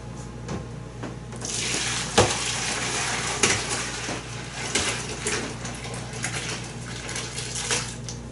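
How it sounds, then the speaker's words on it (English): Citrus and herb brine is poured into a bucket in a steady, close splashing stream, with a few sharp clanks and knocks of a container over the running liquid. "we're going to go ahead and get the brine into the bucket"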